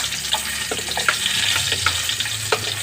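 Onion sizzles and fries steadily in a hot pan for sabo kamatis with pork fat, a dense crackling hiss with a few sharper pops and scrapes throughout.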